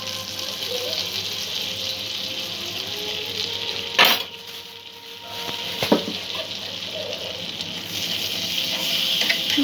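Flour frying in melted butter over a low flame hisses softly and steadily in a pan, broken by a couple of sharp utensil clinks as it is mixed, close and without talk.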